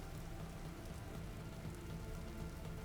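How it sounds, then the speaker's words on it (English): In-game rain in Vintage Story falls as a steady, even hiss of drops on surfaces, soft and continuous throughout with no speech. "I guess I hear the rain, but I don't really see the rain"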